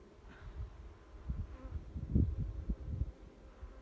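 Honeybees buzzing during a beekeeper's pre-winter hive inspection, a low continuous hum that swells and fades as frames are handled, fairly quiet and close with no talking.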